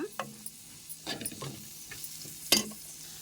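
Turmeric fries in hot oil as a tempering for kaju curry, a soft sizzle under several spoon-stirring scrapes and clinks, with one sharper metallic clatter near the end and no speech.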